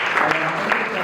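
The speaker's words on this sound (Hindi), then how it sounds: "एक बार तालियों से अभिनंदन करते हैं" An audience at a theatre festival lecture in Siddhpur applauds, a dense continuous wash of clapping that stays fairly loud and steady throughout the brief moment.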